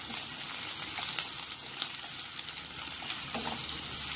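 Green capsicum frying in a hot pan for Chinese egg bhurji, a steady close hiss of sizzling with faint stirring clicks, no voices.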